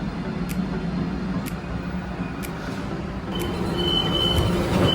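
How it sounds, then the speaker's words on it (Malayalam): A Dubai tram rolls into a stop with a steady low rumble of wheels on rails, thin metallic squeals, and a few short chimes or clicks over the noise. "ട്രാം അപ്പുറത്ത് മറ്റേ സൈഡിൽ വന്നു."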